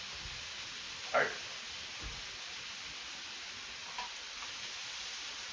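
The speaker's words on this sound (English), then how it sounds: "butter's just starting to brown." Butter sizzles and browns in a pan, with caramelized onions and garlic nearby. A steady, soft frying hiss runs throughout, broken by a couple of faint utensil clinks.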